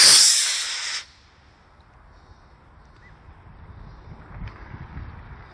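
An Estes Big Bertha model rocket lifts off on a B6 motor with a loud, close hissing whoosh lasting about a second, then cuts to quiet outdoor wind rumble as it climbs away.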